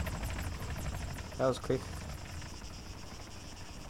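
A helicopter flying in the video game Arma III, a steady rhythmic rotor chop and drone throughout, with a short spoken phrase over it.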